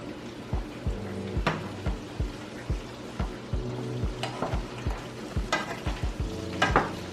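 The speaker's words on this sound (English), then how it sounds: "I'm just gonna let this cook and saute down." Squash casserole vegetables sauté in a pan, sizzling steadily while a utensil stirs and scrapes in a regular, close rhythm of sharp clacks.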